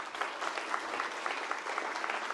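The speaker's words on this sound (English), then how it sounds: "So round of applause for Angelica." Audience applause at a panel event in a hall, a full, continuous roll of clapping from a sizeable crowd, even and steady for a couple of seconds, heard from a moderate distance with no speech over it.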